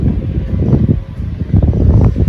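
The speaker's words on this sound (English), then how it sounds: "The wind is kicking up." Steady gusty wind buffets the microphone outdoors in a garden, a continuous low rumbling roar with uneven surges and no talking.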